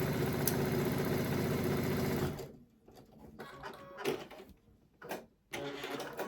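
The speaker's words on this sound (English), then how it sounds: "now you saw me sew it from the top" A sewing machine stitches quilt pieces together with a loud, steady, close mechanical whir for about two seconds. It stops, leaving soft handling noises, then starts up again briefly at the end.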